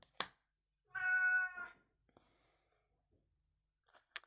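A female cat gives a single clear, drawn-out meow close by, framed by a few soft clicks and taps in an otherwise quiet room.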